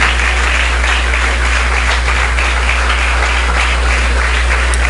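Congregation applauding in a church service, loud sustained clapping over a steady low hum, continuous and undiminished from start to finish.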